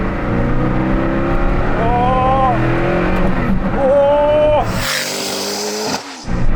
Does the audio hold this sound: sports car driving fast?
yes